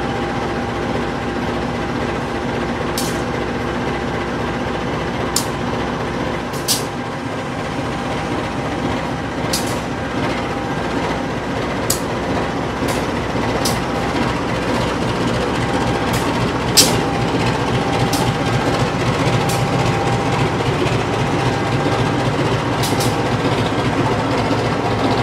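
The Pasundan passenger train, hauled by a double locomotive, rolls along the rails from Bandung to Jogja: a steady, loud rumble and engine drone with rhythmic clicks and ticks from the wheels, heard from on board, with no speech.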